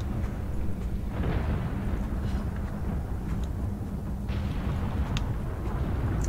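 A thunderstorm rolls through Subnautica Below Zero, a loud, unbroken low rumble with faint crackles scattered through it and no speech.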